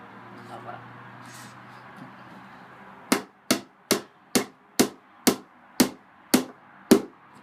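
Nails are hammered into plywood in nine sharp, evenly spaced blows after a few seconds of quiet room noise and faint voices, each strike ringing briefly and clearly close by.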